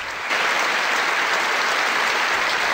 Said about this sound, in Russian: публика аплодировала даже ногами.